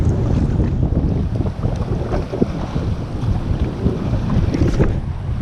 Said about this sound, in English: Good to see that they are still biting even in all the crazy wind and stuff.